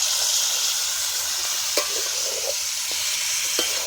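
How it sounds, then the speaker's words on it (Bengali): Chicken keema ghugni sizzles and is stirred in a pan outdoors at night. A constant frying hiss runs throughout, with occasional scrapes and clinks of the spoon against the pan. "একেবারে হালকা কষে নিলেই হয়ে যাবে।"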